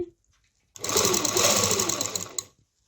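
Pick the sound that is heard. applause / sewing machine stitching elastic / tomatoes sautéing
sewing machine stitching elastic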